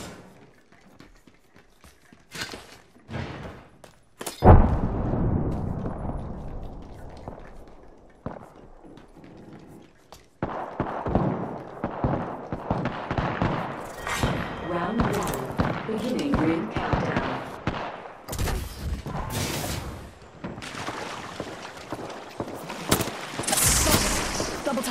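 Gunfire in the shooter game Apex Legends, rapid bursts of shots and sharp impacts scattered through the mix, heavier in the second half, with players talking over the action.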